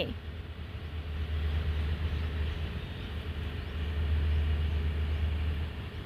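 Trains moving along the platforms at Hua Lamphong station in Bangkok, a steady low rumble of engines and wheels that swells and fades under distant station ambience.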